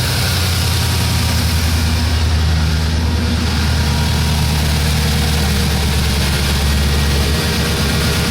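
A carbureted small-block V8 in a 1959 Corvette idles loudly and close by, a deep continuous rumble with a steady lumpy pulse throughout.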